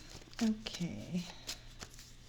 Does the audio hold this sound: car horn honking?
no